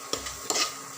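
Leftover rice with a little soy sauce being stirred and mixed in a pan: a few scraping stirs and light clinks over a low, steady sizzle, close by and without talking.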